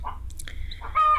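Stray neighborhood chickens cluck and call in a few short, sharp bursts close by, ending in a louder, drawn-out squawk, with no talking.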